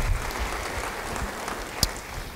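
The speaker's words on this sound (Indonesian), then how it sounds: "Beri tepuk tangan bagi Tuhan." Congregation clapping during a church service, a short burst of steady applause from many hands in a large room, with a sharp knock standing out near the end.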